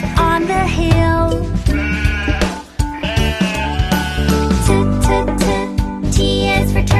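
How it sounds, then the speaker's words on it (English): A sheep bleats several times in a children's alphabet cartoon, its wavering calls close and loud over a busy, bright musical backing that runs throughout. "S is for sheep. The sheep eats grass up on the hill."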